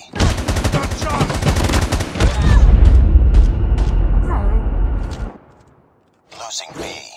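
Dense, continuous automatic gunfire in a Call of Duty Mobile ranked multiplayer match, loud and close for about five seconds, then a short silence before a few more scattered shots.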